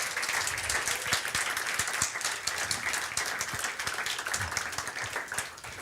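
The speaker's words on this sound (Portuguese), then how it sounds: "você pode dar um aplauso bem forte ao Senhor" A church congregation applauds loudly during a sermon, a sustained, dense clatter of many hands with distinct sharp claps standing out, fairly close and continuous throughout.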